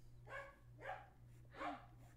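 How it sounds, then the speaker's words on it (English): A dog barks three times at a steady pace, muffled and fairly distant over a low constant electrical hum, with no speech. "what are you barking at?"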